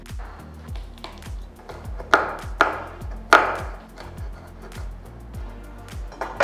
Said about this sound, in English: I'll be chopping the garlic for the next recipe